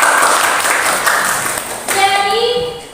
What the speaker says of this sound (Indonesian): kita aplaus dulu